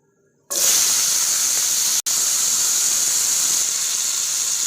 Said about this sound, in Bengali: আমি হিং, মৌরি আর তেজপাতা দিয়ে দিলাম।